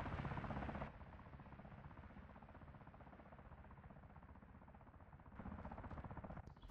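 A military Osprey aircraft in a combat video game gives a steady, dense rotor thump and whine that grows louder at the start and end, fairly faint and continuous with no talking.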